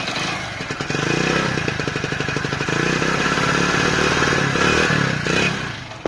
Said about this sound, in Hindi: इसका इंजन का आवाज सही है,